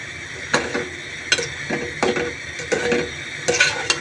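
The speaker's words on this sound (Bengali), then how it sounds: "আলুটা দেওয়ার পরে একটু নাড়া দিয়ে ঢাকনা দিয়ে দিব" A pot of potato and fish curry being stirred, with a series of scraping, clattering strokes against the metal at a steady, uneven rhythm, close by and moderately loud.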